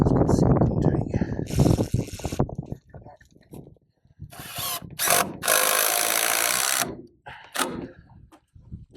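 A bolt being fastened with a ratchet tool during an off-grid build in Africa: loud, close bursts of clicking ratcheting alternate with stretches of someone talking.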